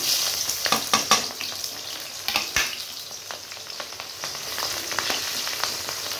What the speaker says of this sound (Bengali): তেলটা গরম হয়ে গেছে, কাটানো পেঁয়াজ লঙ্কাগুলো দিয়ে দিব।